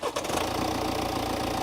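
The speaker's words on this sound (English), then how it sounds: "This 2-litre diesel engine is as rough as, I mean, have a listen to this." A 2017 BMW X1 with a 2-litre diesel engine running roughly, a steady close clattery drone after a brief dip at the start, heard alone without talk.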